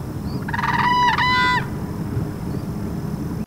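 A single close, harsh, honking burst of about one second: an adult alarm call from a very tall, snow-white crane in the Aransas and Matagorda Island marshes, followed by quiet background hiss.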